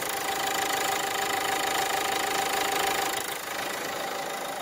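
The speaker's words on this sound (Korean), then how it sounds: "엔진 소음 먼저 들려드리면은" A Renault Samsung QM3 LE with a 1.5-litre diesel engine idles close by. Its steady, even mechanical hum and light diesel clatter run throughout with no talking.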